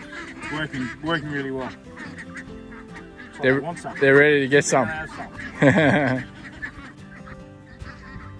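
Five-week-old free-range Maremma ducks, fully in feather, quacking and honking in short bursts beneath a person talking close by, with louder calls clustered in the middle.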